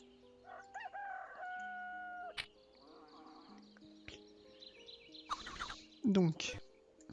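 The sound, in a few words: bird crowing in the video game Goblins 2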